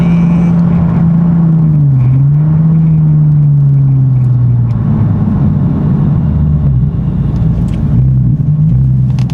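A Nissan 370Z with upgraded brakes drives at speed, its engine droning loudly in the cabin before the tone drops and the rumble eases as the car brakes hard, with no talk.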